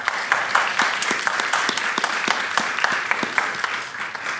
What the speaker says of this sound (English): So please give a warm round of applause for our sponsors